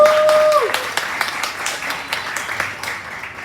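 Audience at a comedy show in a pub in Fayetteville, North Carolina breaks into scattered clapping and applause, a short burst of hand claps that thins and fades over a few seconds.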